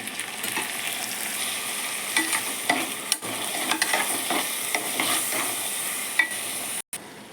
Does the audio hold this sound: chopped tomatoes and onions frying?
yes